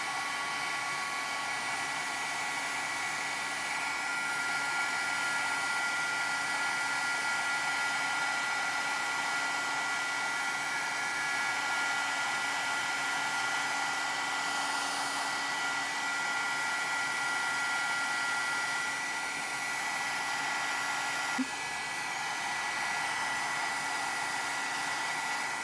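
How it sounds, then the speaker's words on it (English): A heat tool blows steadily on paint spread across a tumbler, a constant airy whoosh with a faint motor hum that runs unbroken and fairly quiet throughout, with no voices. "So now we're gonna take our heat tool and help it spread."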